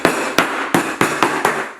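Hammer striking a block of dry ice six times in a steady rhythm, sharp loud close cracks each with a brief crumbling decay.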